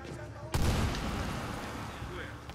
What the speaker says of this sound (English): like cook a grenade and then toss it.